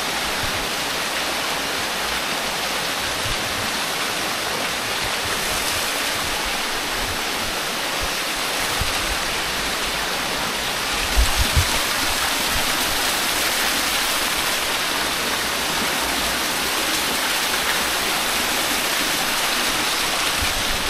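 Water flows steadily inside Lumiang Cave in Sagada while someone wades through it, a dense, unbroken rushing wash that stays loud throughout, with a brief splashy bump midway and no talking.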